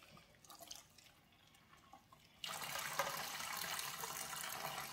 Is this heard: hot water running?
yes